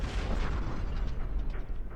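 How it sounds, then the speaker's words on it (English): An explosion in the video game Obduction, a low rumbling blast with crackling debris bursts that rolls on and tails off, fairly quiet and with no one talking over it. "Suddenly, explosion."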